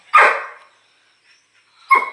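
Two pet dogs that are restless to go outside. There are two sharp, close barks about two seconds apart, with a quiet pause between them.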